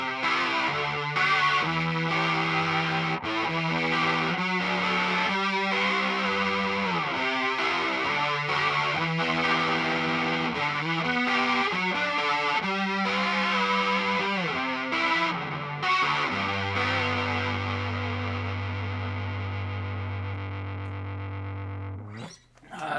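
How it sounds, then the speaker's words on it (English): Electric guitar driven through a Big Muff op-amp fuzz with chorus placed after it, playing thick, saturated notes and chords that end on a long sustained low note before cutting off; loud and alone. "Something like the chorus here, I always have after, because it's just a beautiful sound"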